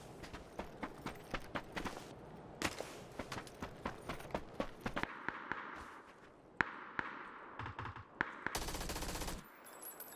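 Rifle gunfire in the video game PUBG, a run of sharp, rapid shots in bursts followed by scattered single cracks and one longer sustained volley, fairly faint overall.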